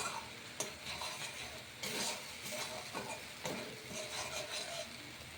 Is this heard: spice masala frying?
yes